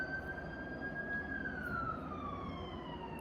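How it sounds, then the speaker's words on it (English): A distant siren wails faintly, its tone rising and then sliding slowly downward over a low background hum. "I hear siren, so that is confirmation."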